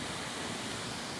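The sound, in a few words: waterfall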